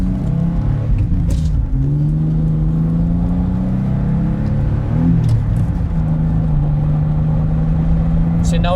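A Pontiac Fiero accelerates on the open road, its engine droning steadily with rising and falling pitch as gears change, heard from inside the car under continuous talk from the occupants.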